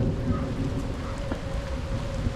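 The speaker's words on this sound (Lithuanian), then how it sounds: "Eina savo, kai lyja, nenustoja lyt." Steady rain falls on a street in Warsaw, Poland, a constant dense hiss with a low rumbling undertone, continuous and even throughout with no voices.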